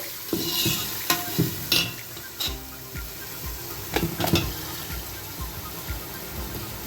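Pieces of chicken sizzle in hot oil with yogurt and tomato for chicken pulao, with a spoon scraping and stirring the pan in irregular strokes over a constant frying hiss.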